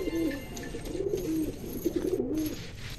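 Pigeons in a loft coo in low, rolling phrases, two or three soft calls repeating close by over faint background noise.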